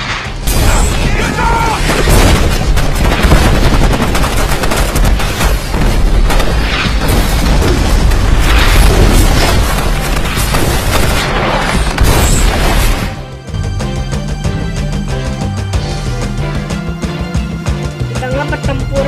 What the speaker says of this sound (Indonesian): Terjadilah pertempuran antara para pemberontak dan tim Lieutenant Waters.